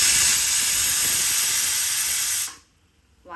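Brinjal sautéing in hot oil in a pan gives a loud, steady sizzling hiss for about two and a half seconds, then cuts off abruptly to near silence.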